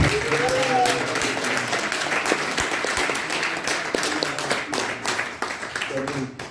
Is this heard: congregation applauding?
yes